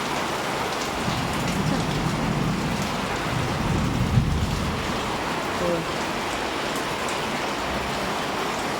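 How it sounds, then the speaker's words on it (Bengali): Heavy rain pours down in a steady, loud roar of drops drumming on surfaces, constant throughout with a faint low rumble mixed in. "কী জোরে বৃষ্টি হচ্ছে।"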